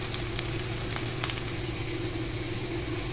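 Bottle gourd kebabs fry in a pan with a steady, close sizzle, a few sharper pops and crackles early on, and no talking.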